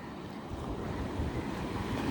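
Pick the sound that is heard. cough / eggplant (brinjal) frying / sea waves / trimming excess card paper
sea waves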